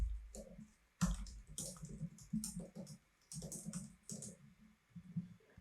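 Keys on a computer keyboard are pressed in a short run of irregular clicks and taps. The clicking is close and fairly faint, with small pauses between bursts and no talking.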